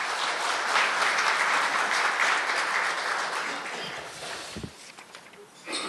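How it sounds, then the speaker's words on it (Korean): An audience at a CEO forum applauds, a dense burst of clapping that fades gradually over several seconds, heard up close with a few thumps near the end. "큰 박수 한번 부탁드리겠습니다"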